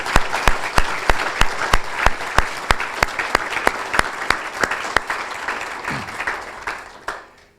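Audience at a college decision day event for future leaders gives a round of applause; sparse, distinct claps ring out over a bed of clapping that thins and fades toward the end.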